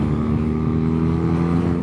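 BMW naked motorcycle engine pulling hard as the throttle is twisted, a loud, steady, close-up drone with a dense low rumble that holds throughout with no voices.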